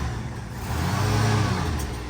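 A 1978 Lincoln Continental running nearly out of gas, its engine giving a low, rough turning-over rumble that swells briefly and then drops away as it dies, close and unaccompanied by voices.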